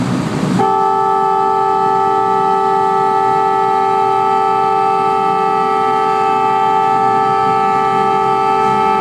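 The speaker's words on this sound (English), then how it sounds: "you can sound the horn real quick to come around a blind spot" A duck tour amphibious boat sounds its horn on the Charles River: one long, loud, steady harmonic blast that starts after a brief moment of engine and water noise and holds unbroken to the end.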